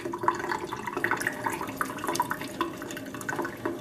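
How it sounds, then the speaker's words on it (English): Strawberries are rinsed in a cup under running water, with a steady, fairly quiet trickle broken by small splashes and drips. "And, just rinse them a couple of times."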